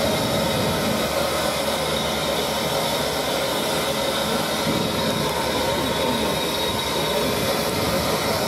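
Broad, steady rail noise with wheel squeal and a continuous rushing roar at a station, with SR 34052 Lord Dowding steam locomotive hauling The Welsh Marches Express at Cardiff Central; loud and close throughout.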